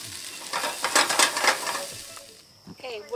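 Food sizzles in a pan while being stirred, with bursts of frying crackle and scraping that fade toward the end, where people start talking nearby.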